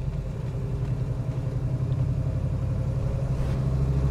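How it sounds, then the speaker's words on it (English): A 1967 Chevrolet Chevelle SS gives off a steady, deep exhaust rumble at idle, a close, continuous low throb that holds level throughout without any revving. "I just love the rumble of the exhaust."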